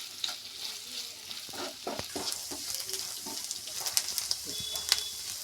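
Onions frying in a pan with curry leaves for wheat upma, with a continuous close sizzle and repeated scraping, clicking strokes of a spoon stirring throughout.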